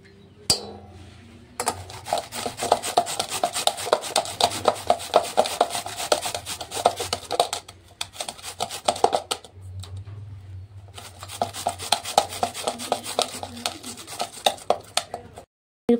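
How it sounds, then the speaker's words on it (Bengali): A whole onion is rubbed back and forth across a grater for a pakora batter, making a steady, close, rasping scrape with quick repeated strokes that pauses briefly and then carries on. "এরপর এর সাথে একটা গোটা পেঁয়াজ গ্রেট করে দেব।"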